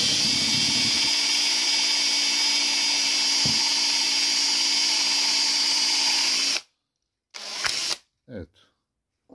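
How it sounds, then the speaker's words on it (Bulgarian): Electric drill used to break open a GU10 LED lamp, a steady loud whirring drone running for several seconds, then stopping abruptly, followed by a few short handling noises and brief bursts. "Просто се вземе една бормашина."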